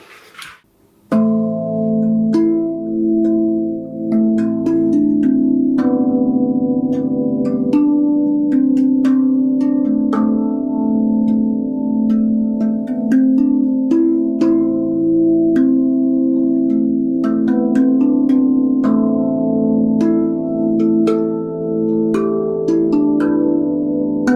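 A handpan plays a flowing melodic piece, ringing metallic notes layered into warm sustained chords, close and fairly loud throughout.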